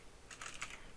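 Short burst of typing on a computer keyboard while entering code in Visual Studio Code, a quick run of close, crisp keystrokes with no voice.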